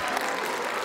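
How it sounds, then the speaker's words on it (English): Dense, steady applause from a crowd, clapping continuously at an even level throughout. "Y'all give a round of applause to Kelly, who's 11."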